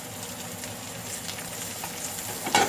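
Mushrooms sizzle and crackle steadily in butter in a very hot pan. The frying hiss is close and continuous, and a sharper clatter of stirring comes near the end.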